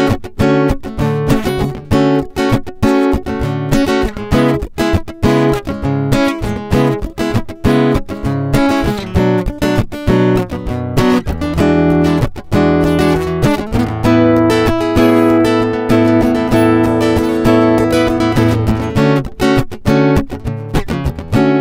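A Fender CD-60SCE all-mahogany acoustic guitar is strummed and picked at length, with full ringing chords and melodic runs that sound close and steady, and no one talking.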